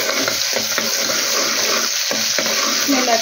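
Garlic, small cloves, sizzles steadily in well-heated oil in a home kitchen, a continuous close frying hiss with occasional stirring scrapes and no speech.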